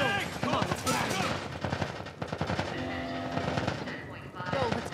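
Rapid automatic gunfire in The Last of Us Part I bursts almost continuously through a tense firefight, mixed with shouting voices and loud battle noise throughout.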